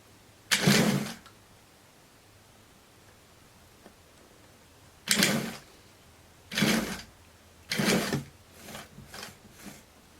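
A sewing machine stitches a blouse seam in short separate bursts: one run, a pause, then three longer runs and a few quick short ones near the end, heard close in a quiet room with no talking.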